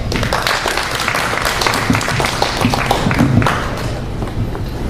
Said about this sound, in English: Go ahead and give him another round of applause.